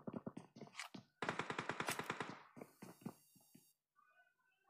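Rapid automatic gunfire in a PUBG Mobile final-circle match, with dense bursts of loud shots, a sustained volley, then scattered single shots fading into quieter game sounds.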